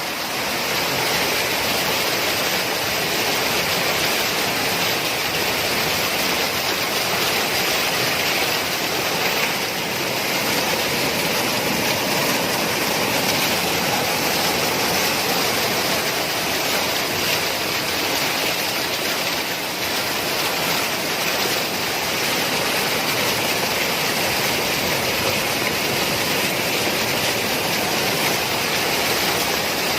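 Loud, continuous rushing of a swollen river, a dense unbroken roar of water with no voices over it.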